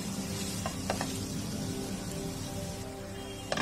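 Soft dates cooking in a pan for a sugar-free dates and dry fruit roll give a steady low sizzle and a few stirring scrapes, close and continuous with no talk.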